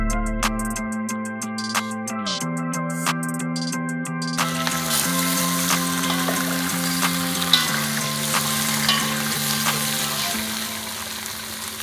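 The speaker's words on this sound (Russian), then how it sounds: "Теперь до золотистой корочки обжариваем" Chicken for chakhokhbili fries in a kazan over a charcoal grill, a loud dense sizzle that keeps crackling with stirring noises under continuous background music.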